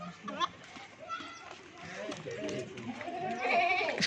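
Rajanpuri goats bleat in a busy farm pen, with several overlapping animal calls under steady chatter from people nearby.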